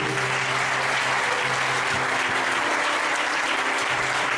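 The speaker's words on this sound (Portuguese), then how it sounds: "Palmas para Jesus" A church congregation claps steadily and loudly, a continuous dense patter of many hands with a low hum underneath.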